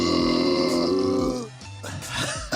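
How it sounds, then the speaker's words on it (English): A long, deep burp rumbles loudly and close during a casual after-party hangout, trailing off into a few rougher, broken bursts at the end. "Was that a true burp?"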